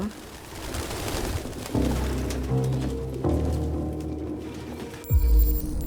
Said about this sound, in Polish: Ach, te gołębie wszędzie.